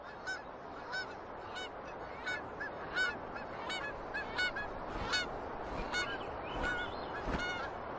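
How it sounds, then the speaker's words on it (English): A large flock of seabirds honks and calls continuously on the Alaska coast, overlapping cries layered over a steady roar of surf or wind, with no talking. "As many as 140 million seabirds flock to Alaska's coast for the summer."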